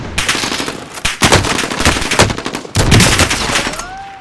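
XM4 assault rifle in the video game Warzone fires in loud, rapid automatic bursts that come close, with brief pauses between the strings of shots.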